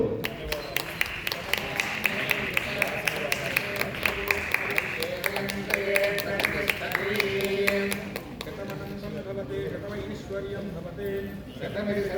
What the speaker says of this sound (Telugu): అందరు కూడా గట్టిగా చప్పట్లతో